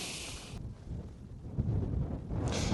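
Heavy wind buffets a microphone on King's Tor, Dartmoor, at a wild campsite, making a continuous low rumbling roar that swells and gusts throughout.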